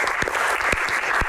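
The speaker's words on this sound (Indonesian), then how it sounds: "tepuk tangan luar biasa untuk Ibu Halida" Brief burst of audience applause for Ibu Halida at a patriotic Q&A gathering, steady dense clapping with a few sharper individual claps standing out.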